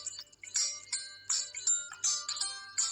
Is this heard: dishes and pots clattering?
no